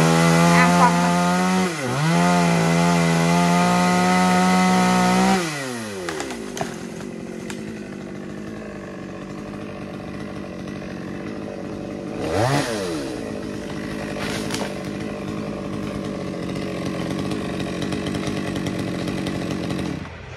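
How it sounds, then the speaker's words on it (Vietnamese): A chainsaw cuts through a toad tree in a durian orchard, loud revving and bogging as the blade bites, then dropping to a lower steady idle with occasional brief revs, close by. "bên dưới anh Kiệt sẽ cưa xả cho nó gọn lại."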